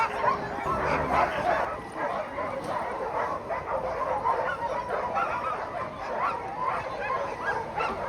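Many Iditarod sled dogs yip, bark and whimper at once in a steady, clamoring din that never lets up, with a few people's voices faintly underneath.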